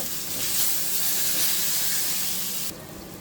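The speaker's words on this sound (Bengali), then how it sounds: "এখন দিয়ে দিব আদা রসুন বাটা" Ginger-garlic paste hits hot oil in a pan with onions and cumin, giving a loud, continuous broadband sizzle that holds steady, then drops abruptly near the end.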